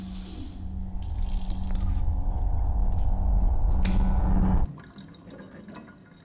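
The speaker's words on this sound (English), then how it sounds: "Is that a shower sound?" Water dripping and running like a shower in Silent Hill 2, a steady mid-loud wash with scattered drips that drops off sharply near the end.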